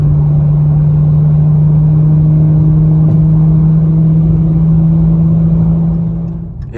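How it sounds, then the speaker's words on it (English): A V6 car accelerates after a downshift of two gears, heard as a loud, close, steady engine drone from inside the cabin that eases off near the end. "And for Kobe, do a little pull for you. Drop down two gears."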